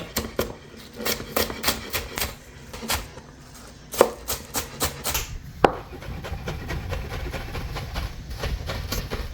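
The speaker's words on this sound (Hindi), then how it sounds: "छोटे छोटे जो है ना वो आप फन चॉप कर लें अनियन को" Rapid, steady knife chopping of onions on a board, a quick rhythmic series of sharp taps with a few louder strikes, close by.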